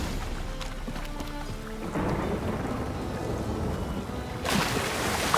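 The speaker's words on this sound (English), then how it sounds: "A storm, damn it." Thunderstorm in The Witcher 3: a low rolling thunder rumble at first, then steady heavy rain hissing across the whole span, swelling louder near the end, with no talking.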